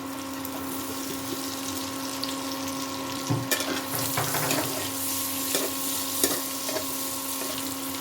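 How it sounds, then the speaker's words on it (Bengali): Cubed onions and capsicum fry in a kadhai for kadhai paneer. A steady, fairly loud sizzling hiss runs throughout, broken by a few soft stirring clinks, with no talking. "যে কিউব করে রাখা পেঁয়াজগুলো ভেজে নেব। আর এই শিমলা মির্চগুলো ভেজে নেব।"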